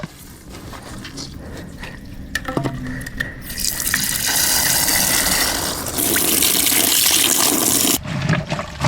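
Water from a tap pours into a sink during a second rinse of a hand-washed down jacket, starting with splashes and handling noises, then swelling into a loud, steady gush that cuts off briefly near the end.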